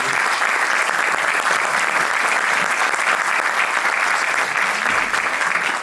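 An audience applauds at the close of a panel at a business event on agribusiness exports, a dense, steady burst of clapping from many hands that carries evenly for several seconds.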